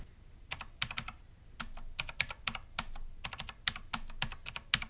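Typing an IP address on a computer keyboard, with about two dozen crisp, close key clicks in quick irregular bursts and short pauses between groups, no voices.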